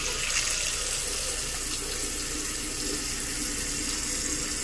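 Water runs steadily from a new replacement faucet into a sink in a 2021 Forest River FR3 30DS motorhome, a continuous hissing splash at close range with no other sounds.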